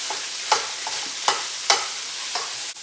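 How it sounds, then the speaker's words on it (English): Ground pork frying in oil in a wok, a steady loud sizzle with a few sharp scraping stirs that come at fairly regular intervals. "to my wok, I'm going to add 8 ounces of ground pork"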